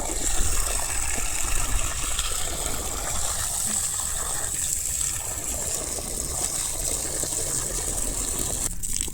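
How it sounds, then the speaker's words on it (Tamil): Water gushes and splashes steadily onto farm soil for several seconds, a continuous rushing pour at moderate loudness with no voices. "கொஞ்சம் தண்ணி விடுறோம்"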